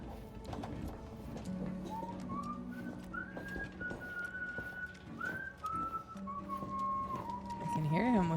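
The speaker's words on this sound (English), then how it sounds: "I can hear him whistling, but I can't see him." A character whistles a slow, wavering tune in The Outer Worlds 2 video game, a single clear melodic line held over faint background clatter and low ambience.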